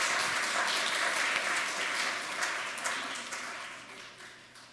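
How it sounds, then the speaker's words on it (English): Applause from a church congregation at a Unitarian Universalist Sunday service fills the room, a steady dense clapping that gradually fades toward the end. "Let's give them a round of applause."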